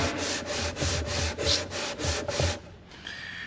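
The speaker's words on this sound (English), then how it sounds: "we're going to get this thing sanded down" Sandpaper scraped back and forth over a flat metal surface on a 1928 Sanford fire engine, about eight close, even rasping strokes in a steady rhythm before stopping.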